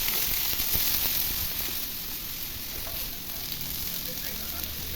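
Tomatoes hit about a spoonful of hot oil in a pan and set off a loud, steady, close sizzle that holds throughout with a few faint clicks of stirring.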